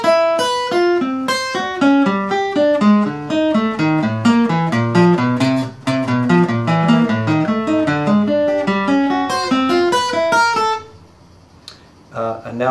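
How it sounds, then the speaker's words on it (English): Guitar runs the spider exercise, fast steady alternate-picked single notes crossing strings in a continuous rhythmic pattern for about eleven seconds, then stops, leaving a few faint scattered noises. "It's really a right-hand alternate picking, or cross-picking, because it's about changing strings exercise."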